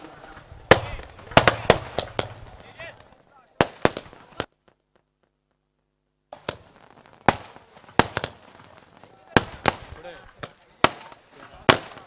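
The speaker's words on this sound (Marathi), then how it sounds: "फटाक्यांच्या आतषबाजीमध्ये वाढदिवसाच्या यथोचित शुभेच्छा यश मालकर सर सचिन दादा यांना दिल्या जात आहेत." Firecrackers go off at a village cricket tournament match, Gavdevi Sarang versus Asare in the 2026 Upsarpanch Cup at Asroti. Sharp, loud cracks come in irregular clusters, with a brief quiet gap midway and faint voices between bursts.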